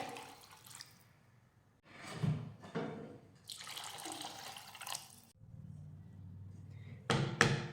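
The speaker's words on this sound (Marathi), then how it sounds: "तर त्यासाठी दोन वाट्या पाणी घालूयात" Water is poured in several separate bursts, splashing and gurgling into a pot of rice, with quiet pauses in between.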